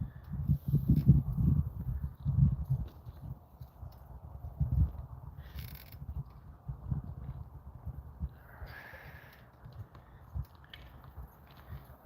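A horse at a horse rescue, hooves clopping irregularly on the ground as it trots, fairly close with uneven bursts of steps and some shuffling.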